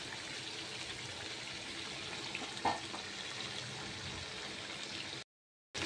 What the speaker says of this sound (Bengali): আর একটুখানি কষিয়ে আমি পানি দিয়ে দেবো পরিমাণে